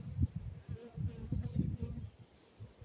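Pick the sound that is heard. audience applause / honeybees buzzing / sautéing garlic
honeybees buzzing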